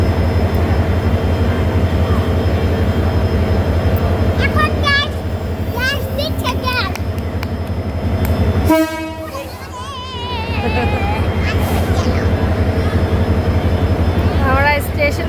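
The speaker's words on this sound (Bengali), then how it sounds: "এটা হলো ইঞ্জিন আসছে।" A train locomotive engine arriving at a station on a rainy day, with a steady low diesel rumble throughout and a couple of loud horn toots near the middle; people talk over it at times.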